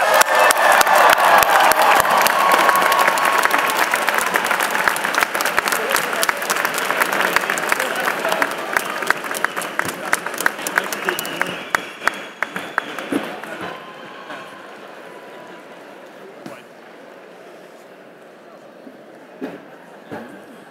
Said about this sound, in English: the graduates rise and toss your caps on the count of three and receive our applause